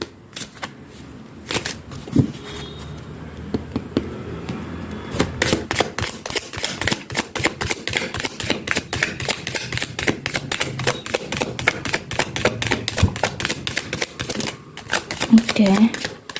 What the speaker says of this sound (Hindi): It's already shuffled. I'm just making it a bit quick.